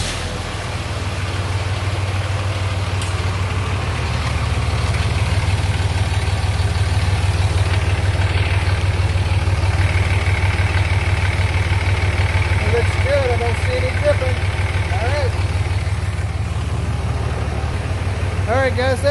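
A Dodge Ram 2500 engine, freshly fitted with a new oil pan and refilled with oil, idles steadily nearby with a deep, even rumble that holds for the whole stretch.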